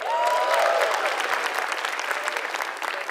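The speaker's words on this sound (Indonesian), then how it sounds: "Beri tepuk tangan sekali lagi buat Eza." A stand-up comedy competition audience gives dense, continuous applause that stays loud and close for the whole stretch, with no talking over it.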